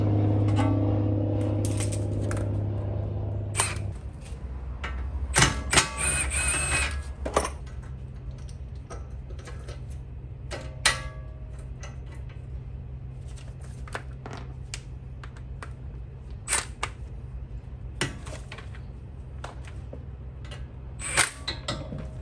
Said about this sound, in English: just tighten it up, and it pops your tie rod end off